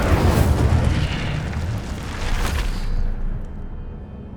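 Incendio fire spell cast in Hogwarts Legacy, a loud booming blast with a rushing roar that swells, flares again briefly, then fades into a low tail.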